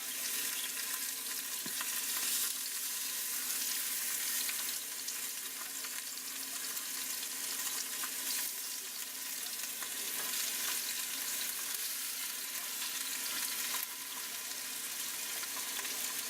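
Ribs frying and crisping in a pan, a steady broadband sizzle that holds level and close throughout, with no talk over it.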